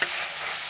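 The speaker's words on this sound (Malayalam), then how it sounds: "നന്നായിട്ടൊന്നിട്ട് ഇളക്കി കൊടുക്കുക." Sliced onions sizzle and hiss steadily in a hot pan as they are stirred for a Kerala-style fish molee, a brief, even, close frying sound with no talk.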